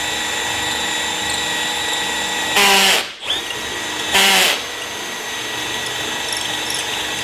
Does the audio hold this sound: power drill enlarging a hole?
yes